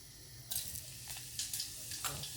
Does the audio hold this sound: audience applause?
no